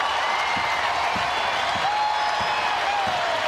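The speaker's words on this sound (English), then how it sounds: "Crowd on its feet." A basketball arena crowd rises to its feet cheering and applauding after a women's Big Ten Tournament semifinal win over Michigan, a dense, steady roar of clapping and voices filling the space.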